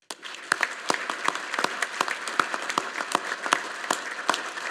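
Audience applause fills a hall at a Naval War College fall graduation ceremony, many hands clapping in a dense, even wash with distinct nearby claps standing out, no voices over it.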